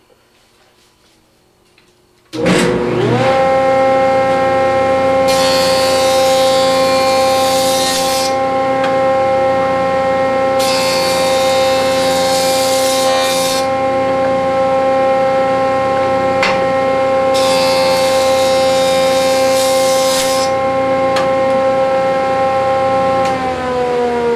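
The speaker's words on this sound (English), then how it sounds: "we're going to run it through the planer" A wood planer switches on after a moment of quiet and runs with a loud, steady high whine, roughening into harsher cutting noise three times as cutting-board stock feeds through.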